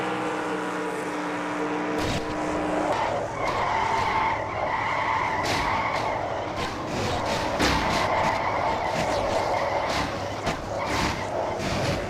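A multi-car crash in a simulated NASCAR-style stock car race at the Brickyard 400 brings a long, loud screech of skidding tires over a droning engine, with sharp scraping bursts as cars tangle.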